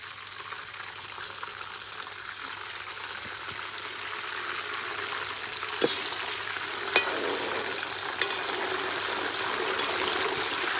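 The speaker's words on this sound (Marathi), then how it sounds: "हा मिठाचा पाणी असा पाणी त्या तेलात दोन चमचे टाकतो आहे" Steady crackling sizzle of hot oil frying jackfruit chips, broad and continuous, with a few sharp pops and spits near the end as salt water is added.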